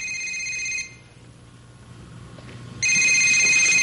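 Telephone rings in two electronic bursts, one at the start and one near the end, with a quieter room hum between them and no speech.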